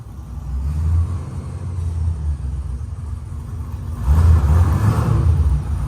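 Engine of a Chevrolet C10 shop truck rumbling and revving during a burnout attempt, a heavy low drone that swells louder near the end.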